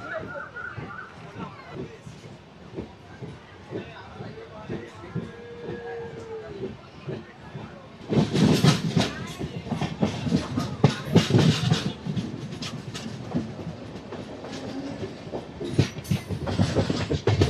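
Train on the Howrah to Digha line rolling along near Contai station, a steady rumble with clattering wheel noise that grows louder and busier midway, with people talking faintly underneath.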